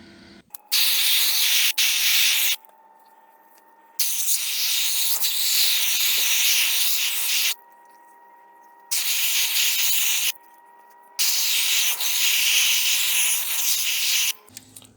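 Water from a hose nozzle sprays hard onto a pool pump's pre-filter sock being cleaned, in four loud hissing bursts separated by short pauses, close up with no talking.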